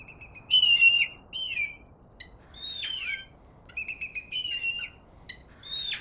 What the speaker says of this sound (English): And you can hear all of our birds just going crazy.